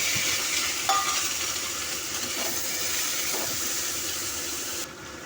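Chopped, washed eggplant fries in a pan with a steady, loud sizzle and occasional stirring scrapes, the hiss continuing throughout without voices.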